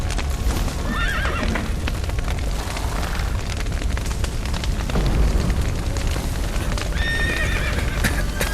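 Horses in a burning village in The Witcher 3 neigh and whinny, with clopping hooves, rumbling fire and crashing debris building a loud, dense chaotic scene.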